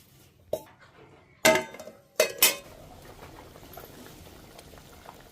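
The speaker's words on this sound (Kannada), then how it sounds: "ಈ ಥರ ಕುದಿಲಾತತಿಲ್ರಿ" A stuffed brinjal vegetable curry simmers in a pot in a village kitchen with a faint, low bubbling beneath a few sharp clinks of a utensil against the metal rim, close and otherwise quiet.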